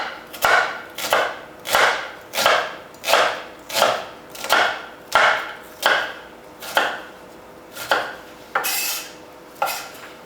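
Onions are sliced lengthways with a knife on a board, giving about a dozen steady, evenly spaced crisp cuts that land close and clear, with no talking over them.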